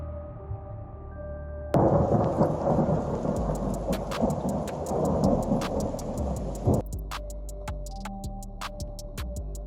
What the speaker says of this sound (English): Brisbane is enduring a severe summer storm with strong winds, heavy rain, and flooding.